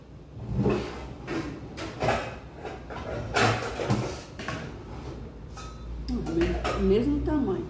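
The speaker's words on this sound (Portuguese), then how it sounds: "Pegar uma panela maior." Cooking pots and pans clatter and clank in a home kitchen as a larger pot is pulled out, with repeated metallic knocks, scrapes and cupboard or drawer bumps close by, and brief speech near the end.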